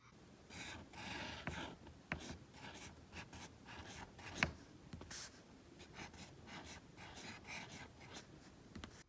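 A Faber-Castell Loom fountain pen with a steel nib writes on paper, giving close, soft, intermittent scratching strokes with a few sharper ticks and pauses between them.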